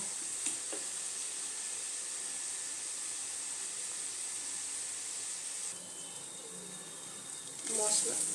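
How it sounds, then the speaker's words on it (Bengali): Spice masala for a dal sizzles in a pan with a steady, fairly faint hiss, a small clink near the start and louder bubbling toward the end. "আবারও 2 মিনিট আমি এই মশলাটাকে কষিয়ে নেব।"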